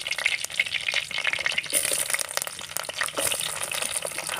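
Chopped onions and curry leaves fry in a hot pan for eggplant curry, producing a busy, steady crackling sizzle with spattering pops throughout, close and fairly loud.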